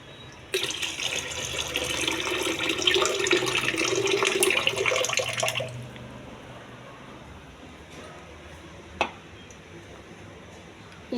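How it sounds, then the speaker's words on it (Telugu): Soaked red rice being washed, with running water splashing steadily into a vessel for several seconds before it stops, followed by quieter handling and a brief clink. "శుభ్రంగా కడిగి వాటర్ పారిపోయాలి"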